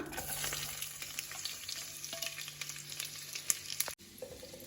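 Onions crackle and sizzle steadily in hot oil with spices while being fried for chicken yakhni pulao. A close, dense frying hiss carries faint stirring clicks, then cuts off abruptly near the end, with no speech.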